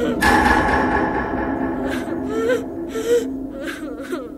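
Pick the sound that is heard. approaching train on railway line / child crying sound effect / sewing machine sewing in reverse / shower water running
child crying sound effect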